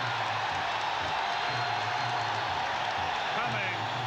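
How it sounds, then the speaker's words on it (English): A basketball arena crowd at a 1988 NBA playoff game between the Milwaukee Bucks and Atlanta Hawks makes a steady, dense roar of cheering that fills the background under a commentator's continuous talk. "Now the crowd is finally getting into this ball game."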